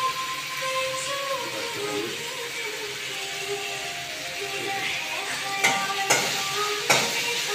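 Chicken frying in a pan before spices go in, with a continuous soft sizzle, a faint voice speaking underneath, and a few sharp utensil clinks and scrapes toward the end.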